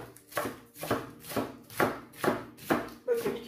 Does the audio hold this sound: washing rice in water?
no